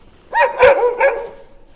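Dogs on the street near Pigeon Rocks in Lebanon give a quick, close burst of three loud barks within about a second, with quiet outdoor air around them.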